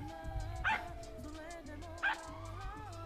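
Two short, clear dog barks from a dog character in a GTA 5 roleplay game, spaced about a second and a half apart, heard over a steady low game background with no talking.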